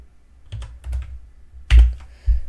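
A computer keyboard being typed on: a few close, crisp key clicks, then two louder, heavier key thumps.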